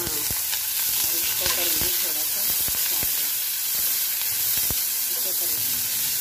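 Mixed vegetables lightly frying in a pan for a chilli potato dish, a steady soft sizzle with occasional clicks and stirring taps throughout, close and continuous with no talk.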